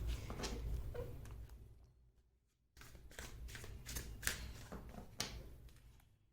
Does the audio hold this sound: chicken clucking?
no